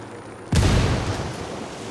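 A frag grenade in Ghost Recon Wildlands goes off with one sharp, loud, close detonation, followed by a deep rumbling tail that slowly fades.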